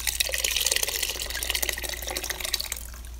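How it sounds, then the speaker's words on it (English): Peach juice and fruit contents poured into a fermenting container for peach wine, a steady close splashing, trickling pour that tapers off near the end, with no talking. "I'm just gonna pour all the contents in there."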